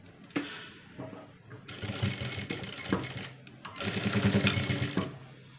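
A sewing machine stitches the sleeve edge of a churidar in quick, buzzing runs separated by short pauses, close and clear, with no talking.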